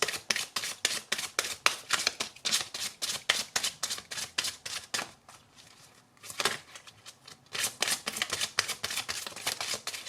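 Romance Angels oracle cards riffled and shuffled by hand in rapid, crisp bursts of flicking card noise, pausing briefly midway before resuming with steady rhythmic shuffles.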